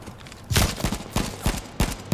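Several sharp, loud bursts of gunfire in the video game H1Z1, fired in irregular quick volleys with short gaps between them, close and punchy.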